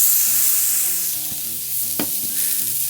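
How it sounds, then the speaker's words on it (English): Ground beef balls sizzle loudly on a hot grill in beef tallow, a steady close frying hiss with a few sharp scraping or pressing knocks and a faint background hum, with no voices. "I'm gonna take my balls of ground beef, and I'm gonna place those onto the grill"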